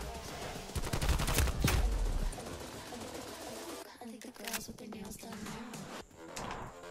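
AK74u fire with a 40-round magazine in Black Ops Cold War: loud, close bursts of rapid shots in the first couple of seconds, then sparser sharp cracks over game noise.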